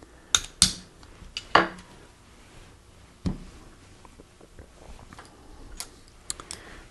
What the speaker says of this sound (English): We can go ahead and drive out this bushing.